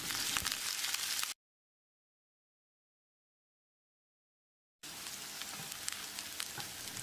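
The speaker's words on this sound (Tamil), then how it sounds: "வெங்காயத்தை கண்ணாடி பதத்துக்கு வதக்கிடலாம்" Steady sizzling and crackling from onions sautéing in a hot pan, close and continuous, broken by a few seconds of total silence in the middle.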